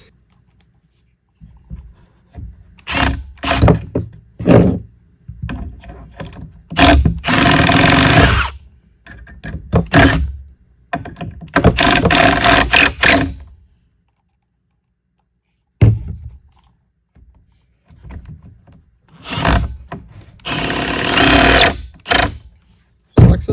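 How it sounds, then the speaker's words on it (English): A small countersink bit drills into wood while building a children's activity table, in several short whirring bursts separated by pauses, with a brief spoken remark between runs. "I'm just using my smallest countersink bit I have."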